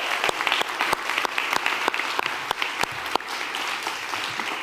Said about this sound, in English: I want to give him a big round of applause for his leadership